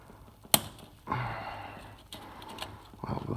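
A plastic tie wrap on a hose gets cut off with one sharp, close snip, followed by soft handling rustles and scraping.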